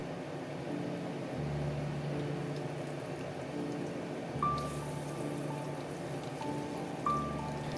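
Small balls of dal paste fry in hot mustard oil in a flat pan, giving a close, steady bubbling sizzle with occasional louder crackles as pieces are added.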